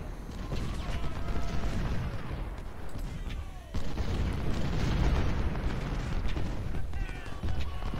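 Artillery fire in the Civil War strategy game Ultimate General: Civil War at the Battle of Fredericksburg, a dense, continuous roar of booms and crackling bursts filling the whole stretch, with no voices.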